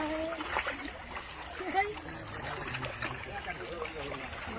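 Live fish, including brigade and rui carp, being released into a pond, with water splashing and sloshing nearby amid trickling sounds while people talk over it.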